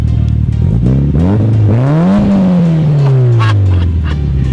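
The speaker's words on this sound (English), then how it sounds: "ちょっと吹かしてもらう。" A Japanese car fitted with an RSR muffler revs hard close by, its loud exhaust note rising in pitch, peaking, then sliding slowly back down as the throttle eases.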